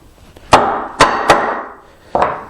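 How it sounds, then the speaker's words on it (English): A hand chisel chops and pares a mortise in a wooden table leg, struck at an angle. Four sharp wooden knocks fall at uneven intervals, close and loud, each with a short decay and no voices. "So we want to chop or pare with our chisel held at an angle."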